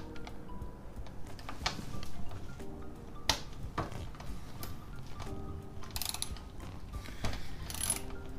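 A 5mm tool works a bolt loose on a Yamaha V Star 1100 motorcycle during a valve adjustment, giving faint, close metallic clicks and ratcheting ticks in an irregular rhythm with small scrapes between.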